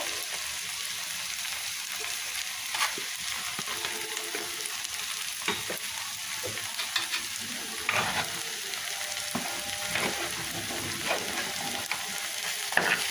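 Neem leaves and salted ingredients being stirred and fried in a pan, a steady close sizzle with scraping spatula strokes and occasional clicks throughout, no talking.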